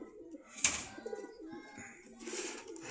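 Racing pigeons coo in a loft, with soft repeated throaty coos and some wing flutters heard close by and fairly quiet.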